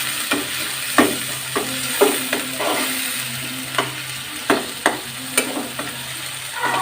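Sea fish in a mixed batch frying in a pan and being stirred, a steady sizzle broken by repeated sharp scrapes and clatters of the spatula at uneven intervals, close and fairly quiet with no talk.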